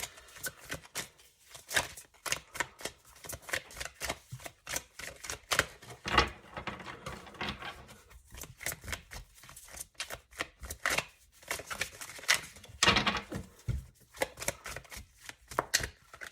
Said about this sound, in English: So I'm just going to keep shuffling until we can pull out 1 or 2 more cards